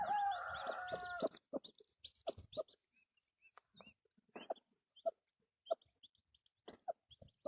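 A hen clucks in short, soft, repeated bursts after a brief louder squawk at the start, with quiet gaps between calls; she is sitting on hatching chicks.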